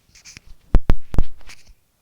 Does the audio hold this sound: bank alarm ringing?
no